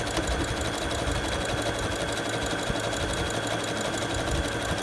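A sewing machine zigzag stitches around the edge of a fabric medical mask, giving a steady, continuous mechanical whir with a fast rhythmic chatter, close and even throughout, with no talking.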